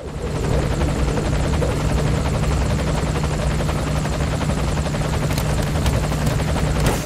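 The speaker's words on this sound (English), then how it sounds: "take a look outside of the helicopter" Loud, steady helicopter rotor drone with a deep thumping low end, continuous and close throughout, no voices, heard inside a helicopter in the video game Metal Gear Solid V: The Phantom Pain.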